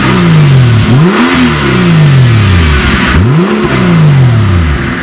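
A Mercedes-AMG G65 engine revs hard in repeated loud, close bursts, each climbing in pitch and then falling back, with two or three full rev cycles and no talking.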